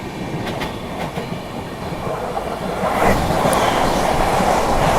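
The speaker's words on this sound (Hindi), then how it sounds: "कुछ ही देर में ट्रेन अपनी पहुंच जाती है कल्याण जंक्शन।" Rajdhani Express train running on rails toward Kalyan Junction, a steady loud rumble of wheels and carriage noise that swells louder midway, with faint rhythmic clicks early on.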